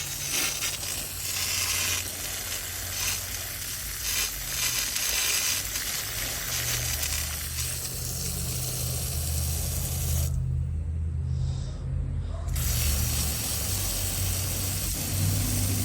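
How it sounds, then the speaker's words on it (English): A pump sprayer hisses out cleaning solution during a roof soft wash, a steady broadband spray with a low motor hum beneath and a brief pause near the end before the spray resumes. "Usually try and spray this in a inconspicuous spot."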